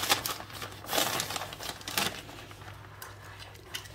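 A knitted toy is wrapped in packaging for postal shipping, with soft crinkling and rustling of wrapping material in short bursts, close and quiet.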